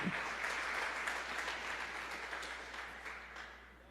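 A church congregation claps for Jesus in steady, dense applause that fades slowly toward the end, with no talk over it.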